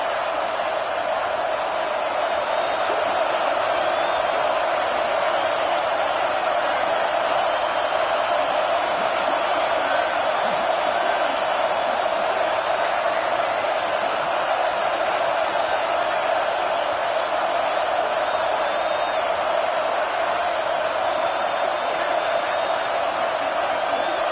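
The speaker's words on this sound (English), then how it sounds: "listen to this crowd noise. This stadium is vibrating" At a college football game between Tennessee and Georgia, a packed stadium crowd roars continuously, a loud, unbroken wall of noise that holds steady throughout.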